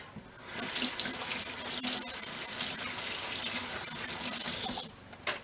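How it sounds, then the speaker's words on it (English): Hands washed under a running kitchen tap, a close, steady rush of faucet water splashing into the sink for several seconds before cutting off abruptly near the end, with no talking. "Wash your hands again."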